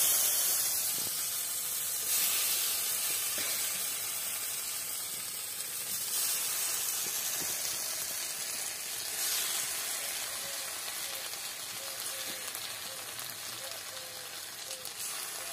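Giant freshwater prawns laid into a hot wok sizzle with a steady, fairly loud hiss that holds evenly throughout.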